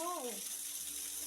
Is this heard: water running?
yes